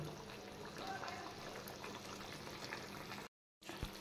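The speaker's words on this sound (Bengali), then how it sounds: "এবার মাছটা একটু ফুটিয়ে জলটা শুকিয়ে নেব।" Pieces of white katla fish simmering in a pan as the water cooks off, a steady faint bubbling hiss that continues without a break before a brief gap.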